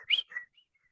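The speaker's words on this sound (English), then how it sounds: "you can just hear the whistling off his nose" A high, thin whistle comes from a man's nose in a comedy film scene: two or three short squeaky whistling pulses, the first loudest, fading to faint traces.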